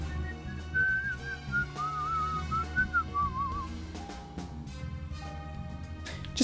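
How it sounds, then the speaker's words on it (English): A melodic whistled tune in the video game Deadly Premonition, clear wavering phrases over a soft musical background, fading out as the music continues. "Just a bit of whistling"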